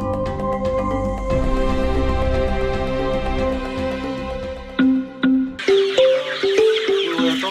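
Chickens on a poultry farm cluck in short, repeated pitched calls that grow louder and more frequent toward the end, after a stretch of sustained tonal sound.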